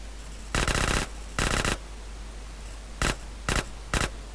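Gunfire in the video game GTA San Andreas comes as short rapid bursts, two longer volleys then three quick ones, loud and sharp over a steady low hum.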